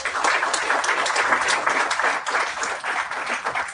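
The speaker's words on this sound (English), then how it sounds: "Another round of applause for Her Excellency" An audience claps at a roundtable discussion on central banking and remittances, a loud, close, continuous burst of many hands with crisp individual claps standing out, holding steady throughout.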